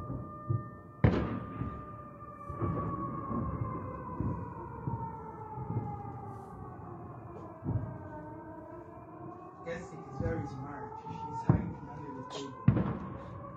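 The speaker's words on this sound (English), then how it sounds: "We hear the sounds of explosions continuing on." Distant heavy explosions in Belgorod sound as several sharp, irregular booms and thuds spread across the recording, over a wavering siren-like wail that rises and falls throughout.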